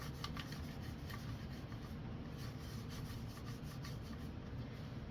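A cloth rubs polish onto a Ford Pinto's engine cover in a steady, faint back-and-forth scrubbing, continuous and close with soft rhythmic strokes and no talking.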